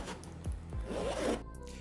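A YKK AquaGuard water-resistant zipper on an Aer Day Sling 3 Max bag is pulled open in a short, close, quiet rasping zip with a couple of soft ticks from the pull.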